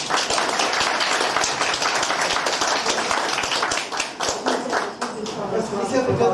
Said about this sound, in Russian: такая вера заслуживает ваших аплодисментов